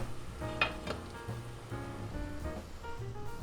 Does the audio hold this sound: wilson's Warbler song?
no